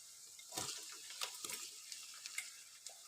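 Ivy gourd added to onions frying in oil for a masala curry, a soft crackling sizzle with scattered light clatters and stirring scrapes, close but fairly quiet, no talking.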